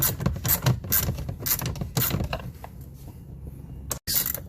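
Socket wrench taking a bolt off a 2020 Ford Transit, rapid close ratcheting clicks in uneven bursts that slow toward the end, followed by a brief pause and a last short run.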